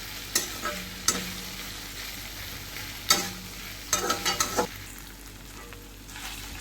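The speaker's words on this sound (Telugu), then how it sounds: "హై ఫ్లేమ్లో పెట్టుకొని బాగా కలుపుతూ ఉండాలి" Okra pieces are stir-fried over a high flame, a steady sizzle broken by several scraping stirs and clattering spatula strokes in the pan, close and fairly quiet.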